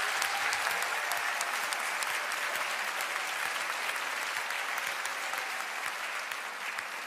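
A hundred jurors on a Romanian talent show rise in a standing ovation, their applause a dense, continuous roar of many hands that holds strong and fades only slightly toward the end.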